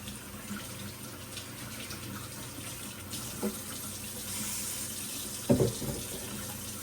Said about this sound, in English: I gotta wash my hands because making the patties will get sticky.